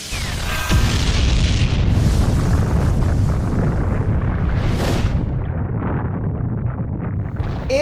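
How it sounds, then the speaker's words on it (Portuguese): A deep, heavy boom with a sustained roaring rumble from the Colossal Titan's explosion in the Attack on Titan anime, loud and close, followed by a whooshing surge that gradually fades. "Ou seja, explosão do Colossal."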